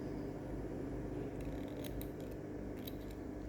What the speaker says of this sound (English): you can go ahead and cut the yarn.